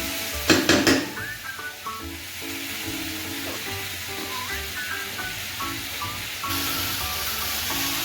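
Bata fish curry with ridge gourd and potato being stirred in a pan: a few sharp clinks of a utensil against the pan up front, then a steady sizzle with light scraping throughout, close and fairly loud.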